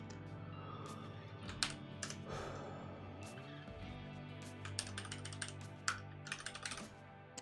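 Keys clatter steadily on a computer keyboard during a Common Lisp programming session, an unbroken run of close, crisp taps with occasional harder strokes and no talk over it.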